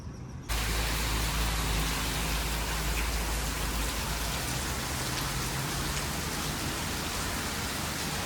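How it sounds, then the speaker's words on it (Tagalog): Heavy rain pours steadily during a Baguio trip, a dense continuous hiss of drops drumming on a surface that starts abruptly and stays loud and unbroken throughout, with no talking. "inabutan kami ng malakas na ulan after kong sabihin sa inyong tara pasyal tayo"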